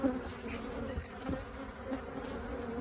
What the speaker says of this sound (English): Robber bees they can wipe out a hive